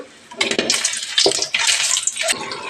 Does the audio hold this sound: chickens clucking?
no